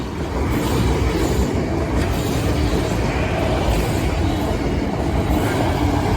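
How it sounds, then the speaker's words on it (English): A train rumbles past a level crossing at Brayford, a loud continuous roar of wheels and rails that stays steady throughout. "Train coming"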